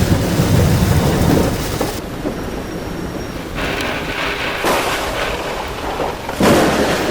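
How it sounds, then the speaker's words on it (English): Heavy rain pounds a moving vehicle on a stormy drive out of Dallas, the roar of wind and road noise surging and dropping in abrupt bursts, loud and close, with no talk. "Seems like that's a lot of the rain weather around"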